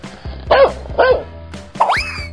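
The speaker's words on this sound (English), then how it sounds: "Dog." A cartoon dog gives two short, springy barks over a bright plucked music backing, then a rising sliding sound effect follows.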